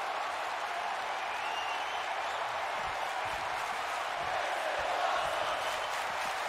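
Wrestling arena crowd roaring and applauding after Gargano's tope suicida through the ropes, a dense sustained wall of cheers and clapping with occasional whoops, steady and loud, with a commentator talking faintly underneath.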